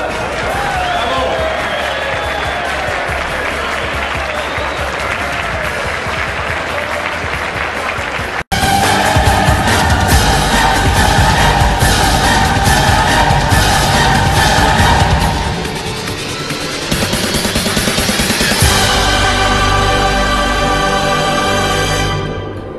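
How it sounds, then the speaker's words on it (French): A crowd at a political gathering applauds and cheers, starting as a softer wash under music, then breaking into loud, dense clapping after a sharp cut, later easing slightly, with tonal music carrying through. "À nous tous, applaudissons-nous"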